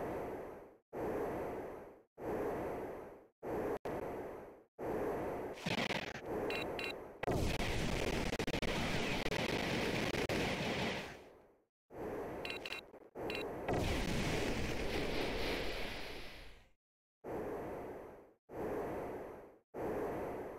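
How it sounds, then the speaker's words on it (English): Explosions in the Sega Saturn video game Panzer Dragoon: a rapid series of loud, booming blasts, some short and punchy, others rumbling on for several seconds, with brief silent gaps between them. "An explosion."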